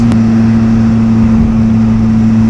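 Benelli TRK 502X motorcycle engine running loud and close with a steady droning hum on a long open-road ride, no voices.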